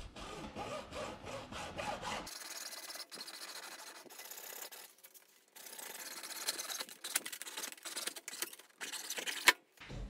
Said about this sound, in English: Just to show you that you can also use a hacksaw, I'm just going to cut one of them